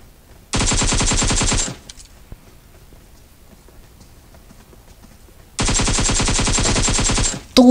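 Two loud, rapid bursts of automatic gunfire ring out in PUBG Mobile, each lasting about a second, separated by several seconds of near silence.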